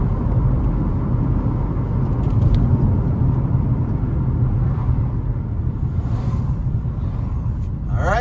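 Car driving along a rough road in rural Jamaica, a dense low rumble of engine and tyres on an uneven surface, loud and steady from inside the vehicle, with no clear speech.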